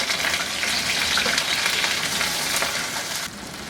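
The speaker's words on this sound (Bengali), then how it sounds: "ওগুলা একটু ভেজে নিব" Chopped medium potatoes fry in two tablespoons of hot mustard oil in a small wok, giving a steady, close crackling sizzle that eases slightly near the end.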